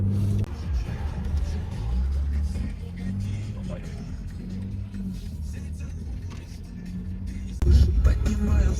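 A BMW drives along the road toward a tyre shop, its low engine rumble steady under a man's ongoing speech inside the car, with a brief louder burst near the end.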